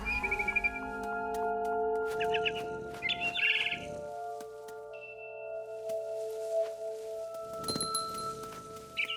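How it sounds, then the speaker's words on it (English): Barn swallow chirping outside a window in the video game What Remains of Edith Finch: scattered bright chirps and tweets over a quiet ambient game soundtrack with soft sustained tones. "Then I heard chirping outside my window. It was a barn swallow going back to her nest."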